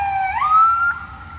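An ambulance siren wail holds steady, then sweeps up to a higher pitch and sustains, fairly close and loud over low traffic rumble at a roundabout.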